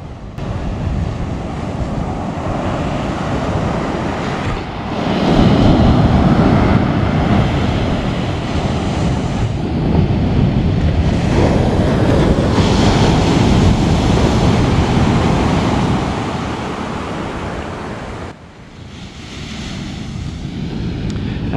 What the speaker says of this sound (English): You can hear the waves crashing.